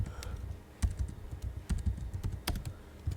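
Keys on a computer keyboard are typed in short bursts of close, crisp clicks with brief pauses, while text is entered during a Windows 7 installation.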